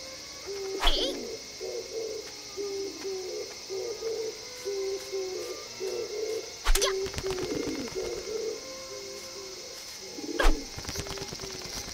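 In the game Natsumon! 20th Century Summer Vacation, pigeons keep up a gentle, rhythmic cooing, phrase after phrase at moderate volume, with a few loud taps and knocks now and then and no speech.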